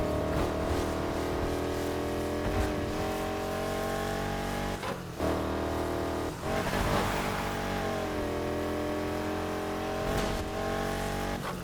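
Race car engine in the Need for Speed Heat video game, revving steadily and loudly with shifting pitch through turns across circuit racing, with brief dips as it lifts off and accelerates again, no voices.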